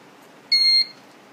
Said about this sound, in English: I am giving the gas, LPG gas, and we got the buzzer sound